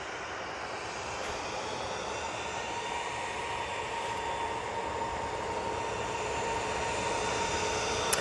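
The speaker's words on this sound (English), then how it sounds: "We do have this Jet2 A321 Neo coming out" A Jet2 Airbus A321neo jet airliner takes off at Manchester Airport, its engines giving a steady broad roar that slowly builds over several seconds, heard from a distance with no voices.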